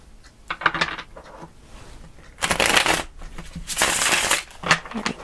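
A deck of tarot cards shuffled close by in two or three separate crisp riffling bursts with quieter handling between them, a couple of soft taps near the end, and no talking.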